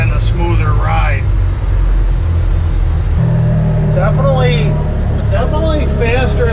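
A Can-Am Defender UTV on new 32-inch tires drives along with a steady engine and road drone, while people talk continuously over it.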